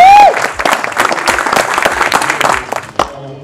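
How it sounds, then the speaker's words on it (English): A graduation audience for Broward County Transit bus operators breaks into loud applause, dense clapping sustained for about three seconds before fading, with a brief tone at the very start. "let's give a resounding applause for our class of 13 graduates"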